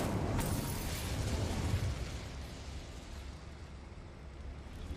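An Incendio fire spell is cast in Hogwarts Legacy, producing a loud, whooshing, rumbling fiery burst that swells at the start and slowly fades into a roaring hiss lasting several seconds.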